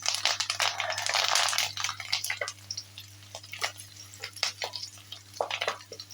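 Green chili and garlic frying in hot oil with curry leaves, a soft continuous sizzle with scattered crackles and a loud burst of spitting near the start, then a quieter bubbling, stirring texture with no voices.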